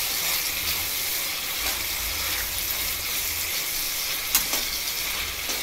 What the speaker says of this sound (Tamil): இப்போ குடமிளகாய் ஆட் பண்ணிக்கோங்க. அதையும் நல்லா வதக்குங்க.